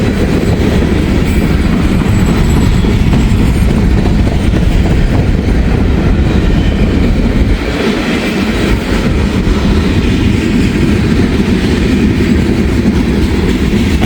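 A CSX freight train rolls past close by, including an old gondola railcar built in 1982, with a loud, continuous rumble and rattling wheel clatter throughout and a faint squeal at times.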